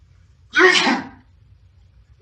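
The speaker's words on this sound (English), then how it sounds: "I sneezed." An animated character lets out one loud, abrupt sneeze, heard alone and up close before a brief quiet and the onset of another sound.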